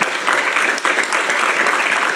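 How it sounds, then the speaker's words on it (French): A hackerspace audience at a talk applauds loudly in a dense, continuous burst of clapping that lasts only a couple of seconds. "Ah, on peut les applaudir."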